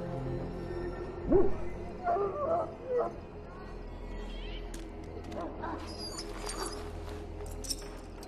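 A dog in the video game Dragon Age Origins gives a few yips and whimpers over a low ambient game drone, and brief clicks and chimes follow.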